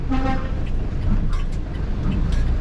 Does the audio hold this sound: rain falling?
no